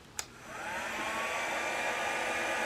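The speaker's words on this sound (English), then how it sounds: "It's basically a tonging wand, a heat wand, but I use it for drying paint, watercolours mainly." A Tresemme heat wand, a tonging-style styling tool run on a cool setting to dry watercolour paint, switches on with a click and then blows a steady, close, continuous airy whoosh with no talking.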